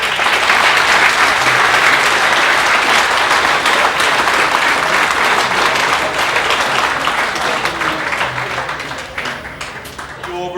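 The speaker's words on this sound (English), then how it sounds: "I think we could give them another round of applause." A banquet audience at a GAA awards dinner breaks into loud, sustained applause, many hands clapping in a dense wash close by that holds steady for several seconds and then tapers off toward the end.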